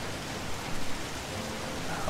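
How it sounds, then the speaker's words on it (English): Steady, dense rain hisses throughout in the video game Heavy Rain, a continuous wash of noise with slight swells and no voices. "Jeez, the rain. It's kind of terrifying."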